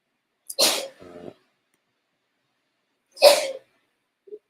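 Two sharp, close sneezes separated by a few seconds of silence, the first followed by a short breathy catch, with a faint click at the end.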